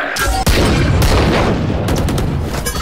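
Loud, dense bursts of gunfire and booming shots in Valorant on the Icebox map, firing close and continuous for a few seconds with a sharp crack near the start.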